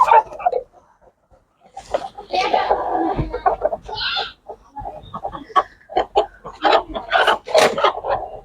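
Clucks and squawks from a newly bought 3 kg hen mix with people talking nearby, the bird sounds coming in short irregular bursts close to the microphone.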